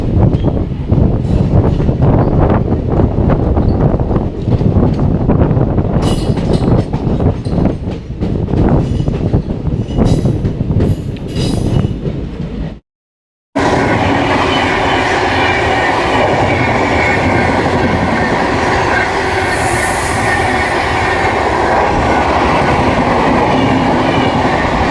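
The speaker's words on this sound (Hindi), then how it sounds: "वाराणसी सिटी जा रही है ये ट्रेन" Vindhyachal Express passenger train bound for Varanasi City running on rails, a loud, continuous rumble with rhythmic clatter from the wheels, cut by a brief dropout around the middle and then resuming as a steady roar with a high squeal.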